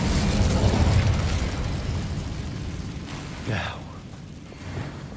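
A fire spell is cast in a Hogwarts Legacy magic game, giving a loud roaring whoosh and burst that fades into crackle, with a shouted voice over it and lighter rumbles trailing after.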